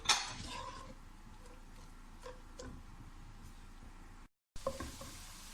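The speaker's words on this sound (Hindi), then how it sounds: "प्याज फ्राई करने के लिए" Chopped onions fry in hot oil for a chickpea chole curry, a faint steady sizzle with a few utensil clinks and a loud burst at the start, briefly cutting out near the end. No voices.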